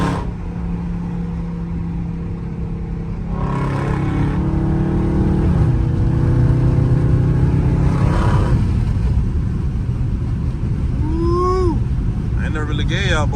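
A loud Dodge Scat Pack V8 revs and pulls hard while driving through city streets, its deep roar swelling and dropping in repeated bursts, heard up close from inside the car with some chatter over it.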